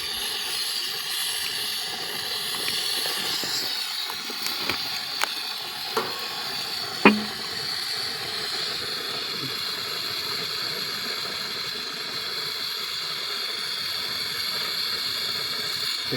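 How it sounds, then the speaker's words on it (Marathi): Oil poured into a hot pan while cooking chicken gives a steady, broad sizzling hiss for the whole stretch, with a few faint clicks and one sharper knock partway through. "हे पहा आता मित्रांनो, तेल टाकत आहे."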